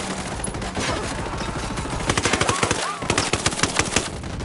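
Rapid automatic rifle fire in Ghost Recon Wildlands, loud close bursts of steady rattling shots with a brief pause, mixed with game combat noise and a voice.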